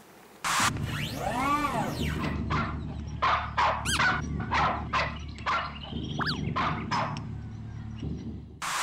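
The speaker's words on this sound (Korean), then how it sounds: "보면 개가 짖습니다." A dog barks repeatedly in sharp, loud, closely spaced bursts, with a brief whining yelp partway through, over a steady low hum.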